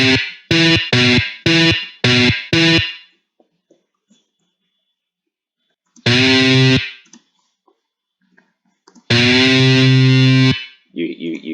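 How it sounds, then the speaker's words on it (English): Distorted electric guitar: a rapid run of six short picked notes, then two longer sustained notes whose pitch shifts as the string is bent, loud and close with near silence between phrases. "you can bend a string to a different note"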